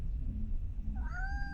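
A cat meows once, a short rising call that comes in near the end over a low background rumble.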